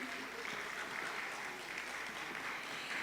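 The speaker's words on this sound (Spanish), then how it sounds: "Un aplauso, por favor, para nuestro panelista." Audience applause for a panelist at a youth and entrepreneurship forum, a steady, dense wash of many hands clapping at moderate distance, fairly quiet, lasting about three seconds without pause.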